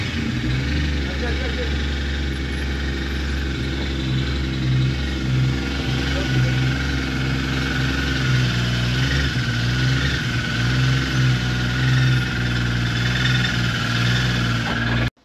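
A turbocharged BMW E36 328i runs with a steady low idle rumble and a few mild throttle swells, heard up close for about fifteen seconds while people talk over it.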